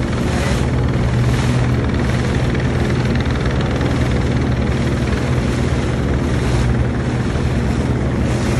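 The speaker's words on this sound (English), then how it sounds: "Here comes the helicopter again." A loud Border Patrol helicopter roars steadily and close overhead at sea off Bimini, its rotor thudding without a break, with no voices.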